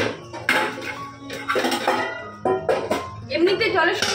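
Dishes, pots and leftover cooking utensils clatter and clink loudly in a household kitchen as they are washed, with metallic knocks and scrapes in uneven bursts, close by.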